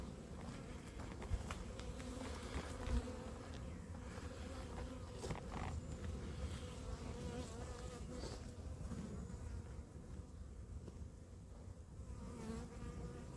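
Packaged honeybees buzzing as they march into a hive, a dense continuous droning hum of many insects, close and steady with occasional louder passes of individual bees.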